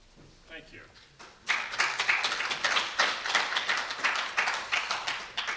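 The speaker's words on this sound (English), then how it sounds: "You might want to save your applause until I'm done." Audience applause for a speaker stepping up at a hurricane conference, a dense wash of many hands clapping that swells in suddenly after a quiet opening and carries on steadily, close and lively.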